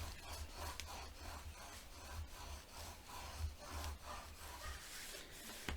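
Folded paper being burnished flat with steady, close rubbing strokes while making a heritage-style craft mini album; a quiet, continuous scraping rhythm with small repeated swells.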